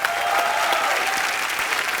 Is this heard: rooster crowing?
no